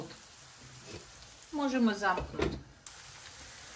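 Onion and carrots fry in a pan, a soft sizzle under a woman's speech, with a brief clatter of utensils in the middle.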